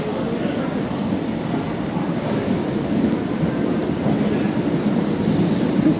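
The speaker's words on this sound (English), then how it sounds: "So that's the Liverpool Street Station train leaving." A train pulls out of Liverpool Street Station on a platform, a steady rumbling roar of wheels and carriages close by, continuous throughout.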